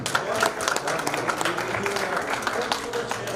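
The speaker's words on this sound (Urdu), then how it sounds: "عابد بھائی کے لیے ایک مرتبہ اور تالیاں." An audience at an Urdu poetry mushaira in California applauds steadily, a dense wash of clapping from a crowd that carries through the whole moment.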